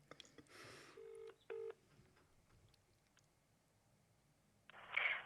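Telephone dialing tones while placing a call: a few short DTMF beeps in quick succession, faint and separated by quiet, with a soft rustle at the start and a brief noise burst at the end.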